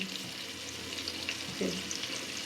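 Chicken pieces frying in a pan for a Thai-style chicken fry give off a steady close sizzle, with a brief scraping clatter partway through as the pieces are turned.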